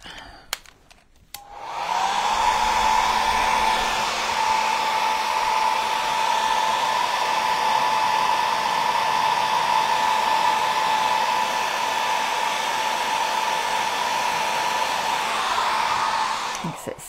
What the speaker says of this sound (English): we're gonna just hit it with the blow dryer real quick